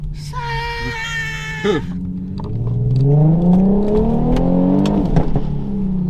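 Tuned Infiniti Q50 engine accelerating at full throttle from inside the car, with a high whining tone at first, then a loud rising drone that climbs steadily for several seconds before easing off.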